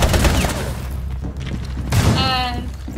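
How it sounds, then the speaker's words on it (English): Video game gunfire aimed at a basement, a burst of loud, dense shots and booms at the start, easing off and then flaring again with a ringing tonal effect near the end. "Yeah, I'm shooting at the basement."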